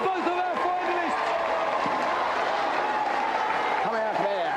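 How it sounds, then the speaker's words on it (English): A TV game show's studio audience applauds in a steady wash of clapping and some cheering, with a voice talking over it and repeated swooping electronic tones. "let's have a big round of applause for both of our finalists."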